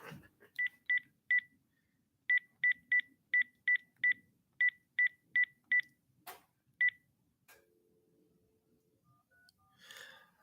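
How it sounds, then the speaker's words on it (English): A telephone keypad dials a number, a rapid series of about fourteen short, clear tones in quick runs. A few clicks and a soft rustle follow. "I'm gonna call you from the other phone"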